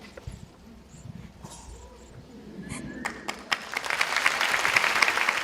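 Ailton leads the clapping in a packed auditorium: scattered claps and soft thumps at first, then the whole audience joins in and the applause swells into a dense, loud roar over the last seconds.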